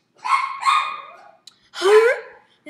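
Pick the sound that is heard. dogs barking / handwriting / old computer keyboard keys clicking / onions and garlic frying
dogs barking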